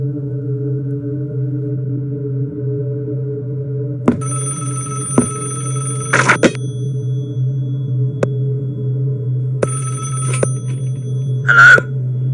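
Telephone in the video game Five Nights at Wario's ringing in two sharp electronic bursts over a steady low hum, with scattered clicks and a brief tone at the end.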